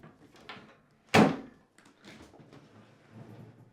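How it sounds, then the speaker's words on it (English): A Whirlpool dishwasher door opened during a circulation pump and motor repair, one clear thunk of the door amid quieter handling clatter. "Stand the dishwasher back up and open the door."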